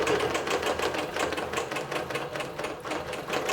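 Digital quilting machine stitching a quilt: a fast, steady, close mechanical chatter of needle strokes with regular rhythmic pulses, running continuously and loudly with no talking.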